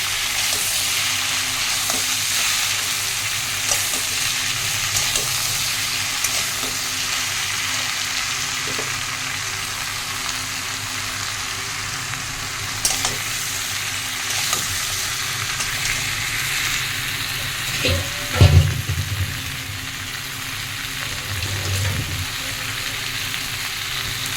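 Spices frying and being stirred in a pan for a simple rohu fish curry with pointed gourd and potato, a loud continuous sizzle with scattered utensil clinks and one brief thump near the end.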